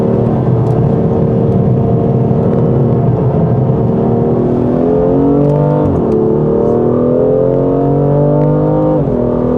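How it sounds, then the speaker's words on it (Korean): A 2019 BMW F87 M2 Competition accelerates hard around the BMW Driving Center test track, its engine note climbing steadily with a brief dip at a shift before rising again, loud and continuous from inside the car. "자, 다시 가속할게요."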